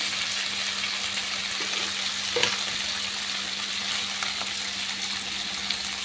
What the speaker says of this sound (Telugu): ఇదంతా కూడా చక్కగా ఇలా ఆయిల్లో కలిసేలాగా కలుపుకుందామండి